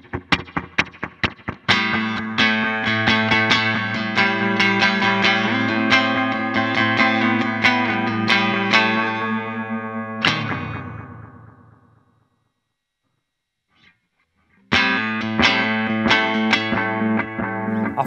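Electric guitar played through a Boss DM-2 analog delay pedal in standard mode, loud chords and picked notes with echoing repeats that trail off into near silence before the playing starts again.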